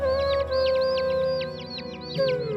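A mother bird near her nest calls in a quick series of repeated high chirps over a steady tonal musical drone, fairly loud and continuous throughout.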